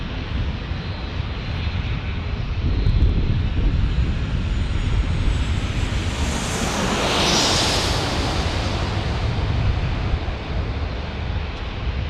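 An American Airlines Airbus A321neo jet landing at San Diego, a steady broadband engine roar that swells and fades across the span with no voices.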